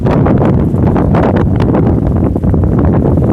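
Strong wind blows at Ramakkalmedu hilltop, a loud continuous roar buffeting the microphone with no break.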